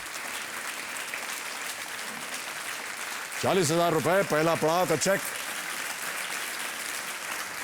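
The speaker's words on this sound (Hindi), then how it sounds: "तालियां बजती रहे देवी और सज्जनों" A studio audience at a televised quiz show claps steadily under a voice, and he speaks in the middle.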